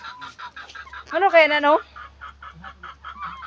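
Rapid turkey clucks pulse throughout, with a louder gobbling burst in the middle. A person speaks briefly among the calls.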